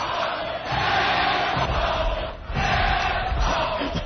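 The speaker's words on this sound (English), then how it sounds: "Oh, my God, listen to this chant." A large radio-show crowd chants together against comedian Jay Moore, heard over a phone line: loud, rhythmic collective shouting in two swelling waves with a brief dip between them.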